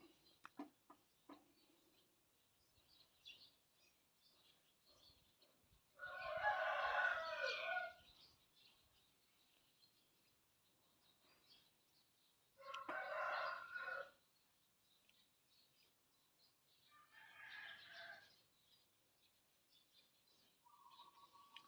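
Roosters crowing outdoors, with three long crows at a distance separated by quiet gaps and a few faint clucks and calls between them.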